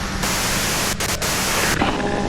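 Loud radio static and white noise from the Disco Elysium video game, a dense continuous hiss that briefly dips twice before surging back.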